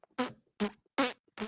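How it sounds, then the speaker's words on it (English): Four short farting bursts come at an even, step-like pace while a woman walks. They are close and fairly loud, with silence between them. "listen to her fart while she walks"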